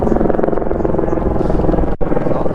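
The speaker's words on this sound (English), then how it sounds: "Helicopter going by" A helicopter flies by outdoors with a loud, continuous rotor throb mixed with wind rumble against the microphone during an e-bike ride, plus a brief dropout near the end.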